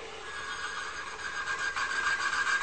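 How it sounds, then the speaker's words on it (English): A refrigeration compressor motor grinds loudly with a harsh, strained whine that grows rougher as it struggles and begins to lock up. "You can hear a tremendous amount of noise, and we actually lock up the motor."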